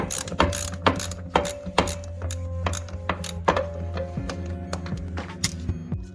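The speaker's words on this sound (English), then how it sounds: "so now I'm using a ratchet and a socket" Ratchet and socket loosening 10 mm bolts on the lower door hinge of a 2007 Chevy Suburban, with repeated close, sharp ratcheting clicks in uneven bursts and pauses, no talk.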